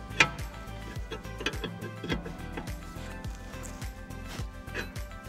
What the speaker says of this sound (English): Last step is just to tighten up the lock nut on the track rod.